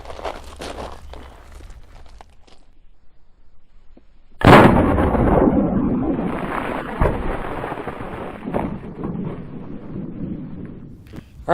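A single loud report from an 1860 Colt or 1858 Remington .44 caliber black powder cap-and-ball revolver, a sharp boom outdoors after a quiet stretch, followed by a long rumbling tail.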